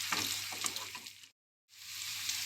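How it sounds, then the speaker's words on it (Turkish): Beaten eggs and sautéed onions are stirred in a hot frying pan, a close sizzle with scraping stirs that breaks off into a brief silence before the frying resumes. "Yumurtalarımızı kırdık. Şimdi güzelce karıştırıyoruz"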